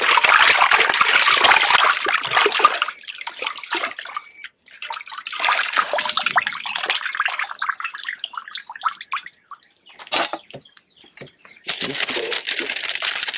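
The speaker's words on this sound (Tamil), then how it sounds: "இப்ப சோறுக்கு தேவையான தண்ணி ஊத்தி அடுப்புல வச்சிருவோம்." Water is poured into a pot to cook rice in a village kitchen, a bright splashing pour in several bursts separated by quiet gaps, close and clear.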